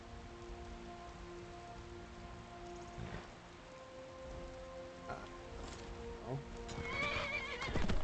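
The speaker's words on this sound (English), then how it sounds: "I'm gonna call my horse." A summoned horse in the Skyrim role-playing game clops in on its hooves and lets out a loud whinny near the end, with light rain and soft music continuing underneath.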